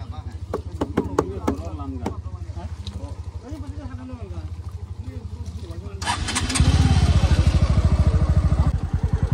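A motorcycle rides along a rough road, its engine chugging steadily under talk, then revving louder and harsher near the end.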